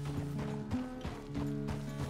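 Horse hooves clip-clop at a steady walking rhythm in the Red Dead Redemption 2 video game, with a low hum and clicking tack beneath the footfalls and no talk.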